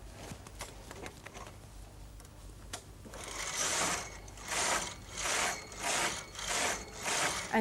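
Brother Electroknit KH 950i knitting machine knitting rows: after a few seconds of soft clicks, the carriage sweeps back and forth in about six regular, rasping passes, each a steady mechanical whir with a clicky texture.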